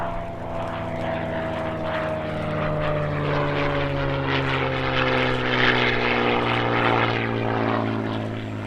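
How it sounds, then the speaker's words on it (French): A vintage Corsair propeller fighter flies past at an airshow: a loud, steady droning engine with a slowly falling pitch as the plane passes, heard alone. "Mesdames et messieurs, pilote du Corsair, les ailes d'époque du Canada, Paul Kissman."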